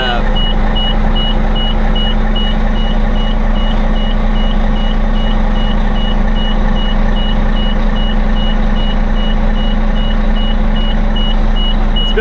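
An LVSR HEMTT military truck idles loudly and steadily, a regular electronic warning beep repeating over the engine drone throughout.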